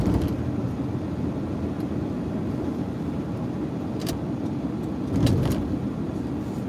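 A car drives past on a Las Vegas street, a broad rumbling road roar under steady traffic noise, with a few sharp clicks or clatters near the end and no talk.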